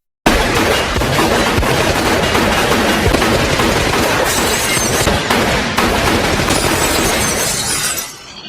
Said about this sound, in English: he is suddenly attacked by a barrage of gunfire from outside